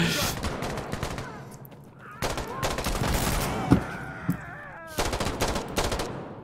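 Automatic gunfire from the shooter game Insurgency: Sandstorm comes in rapid bursts separated by short pauses, loud and close, with a few sharper single cracks between volleys and voices in the background.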